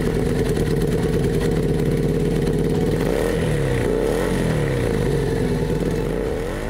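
A V-twin FKM Victorino 250i motorcycle engine revs loud and close, a steady throaty drone that rises and falls through several quick throttle blips with no voices over it.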